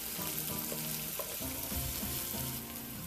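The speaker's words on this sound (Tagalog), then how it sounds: "Unahin natin yung sibuyas. Gisa-gisa lang po natin muna yung sibuyas." Onions sautéing in a hot pan for chicken carbonara, a dense, continuous close sizzle with faint background tones and no speech.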